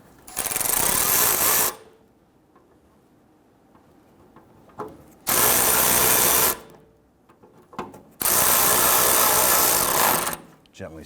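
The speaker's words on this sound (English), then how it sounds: "Install the screws on the front side here." A power driver whirs in bursts while screws go in on a Toyota Tundra 4.7L V8, with three loud runs separated by quiet pauses and small clicks.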